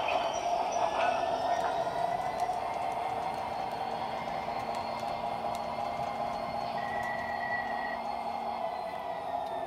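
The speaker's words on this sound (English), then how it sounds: "I'm going to back up the locomotive a little bit." An MTH DCS model train locomotive running on its track, a steady close mechanical hum with a faint motor whine and a brief high tone near the end, no talking.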